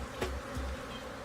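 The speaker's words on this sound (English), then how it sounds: "These bees are still attacking even after being what would normally be defeated" Killer bees in a swarm during a removal job make a faint, steady buzzing drone with a couple of brief louder passes, and no one speaks.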